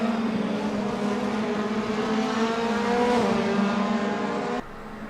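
A pack of race cars, a BMW among them, drives through a long curve leading into twisty corners, engines droning with steady pitched harmonics that dip and shift as drivers modulate throttle, fairly loud and continuous before cutting off abruptly.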